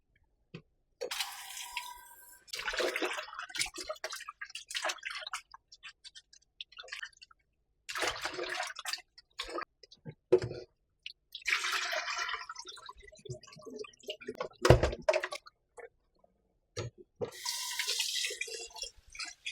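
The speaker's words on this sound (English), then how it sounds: "Now I'm going to wash the oxtail with some salt and a lime." Oxtail is washed with water, salt and lime, giving intermittent bursts of running and splashing water separated by short pauses.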